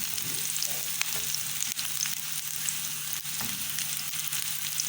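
Garlic and onion sizzle steadily in hot oil in a pan for a soup, with a constant close frying hiss and occasional soft scrapes of stirring throughout, no voices.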